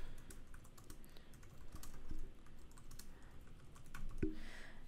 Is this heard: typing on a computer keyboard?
yes